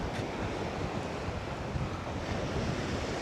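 Sea waves wash steadily against the shore below Bekal Fort in Kerala, a soft, continuous surf hiss with light wind and no voices.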